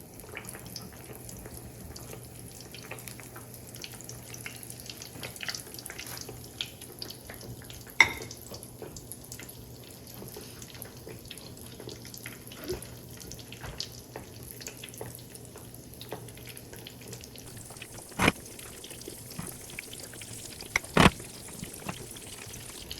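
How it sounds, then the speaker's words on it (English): Eggplant slices fry in medium-high oil with a quiet, even sizzle and scattered pops and crackles, plus a few sharper spits throughout. "we get the oil medium high and dropping the eggplant in. Fry it till it's golden brown"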